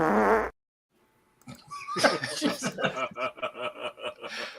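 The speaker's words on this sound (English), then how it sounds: "That's like a fat person fart too" A wet, blubbery fart sound effect bursts briefly, then after a pause comes a stretch of rhythmic, stuttering flapping that sounds like chortling, close and loud.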